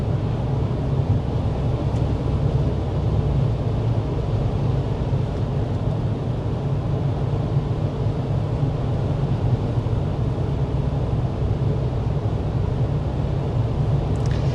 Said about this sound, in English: So let's see how quiet the 2000 Camry is going 55 miles per hour.